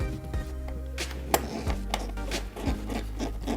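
Close, dry scraping and rubbing as screws are driven into parts of a Fanhome build-your-own R2-D2 model, with a few sharper clicks and taps scattered through the steady grinding.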